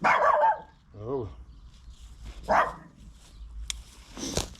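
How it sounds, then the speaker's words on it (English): Two dogs bark from behind a fence along a heathland trail at Canford Heath, Poole: a few loud, sharp barks with gaps between them, close by, with some yips mixed in. "Oh, we've got 2 killer dogs."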